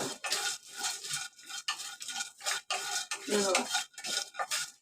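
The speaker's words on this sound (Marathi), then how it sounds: "हे सगळं सुके भाजून घ्यायचे बघ मिडियम गॅस ठेवायचा" Cinnamon and whole garam masala spices dry roasted without oil in a pan over medium heat, giving repeated rough scraping and rattling strokes of stirring, close and steady throughout.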